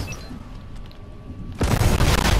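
A rocket ram explosion in the video game Fortnite bursts in suddenly after a quiet stretch, a loud, close, noisy boom that carries on to the end without any talk.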